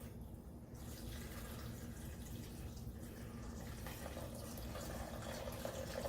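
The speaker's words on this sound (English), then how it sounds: "So pour your wine marinade back here." Red wine marinade for coq au vin being poured slowly back into a pan, a steady continuous liquid pour heard close up with no talking.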